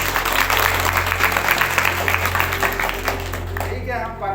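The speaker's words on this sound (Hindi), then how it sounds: "जोर से एक बार ताली बजाइए।" A church congregation claps loudly and continuously, a dense wash of applause over a low steady hum, fading out near the end.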